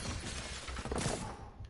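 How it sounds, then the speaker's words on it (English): Glass shattering inside the Spider-Man PS4 video game, a loud, dense crash of breaking panes with scattered tinkling debris over a steady game soundtrack, lasting under two seconds. "Way to smash the fucking glass."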